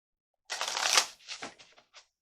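Animal oracle cards being drawn and shuffled from a deck, a quick close riffle of flicking card edges followed by a few softer shuffles and a final short flick, alone in quiet.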